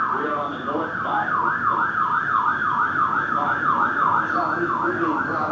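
Wailing emergency sirens cycle up and down repeatedly in a city street scene in New York, loud and continuous, with a faint murmur of background noise beneath.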